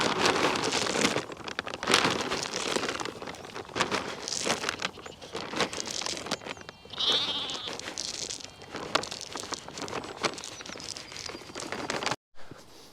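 Sheep and a newborn lamb bleat repeatedly on a farm during lambing, the calls rising over steady outdoor wind noise with no talking.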